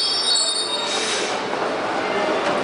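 A Berlin metro train squeals sharply on its rails, a loud high screech over a continuous rumbling roar from the moving carriages, heard from close by.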